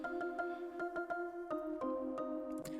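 A bright, deliberately irritating ringtone-style synth hook built in Serum for a track, layered from two stereo sounds, repeats short staccato notes in a bouncy rhythm, loud and alone with no voices.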